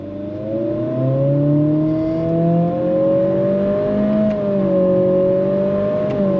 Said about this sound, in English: We are in sport mode, and I'm gonna use the paddles to shift. You ready? On throttle, here we go.